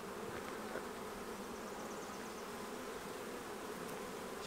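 Honey bees swarming around hive frames while small hives are set up for virgin queens, a dense continuous buzz, steady and close, with no voices.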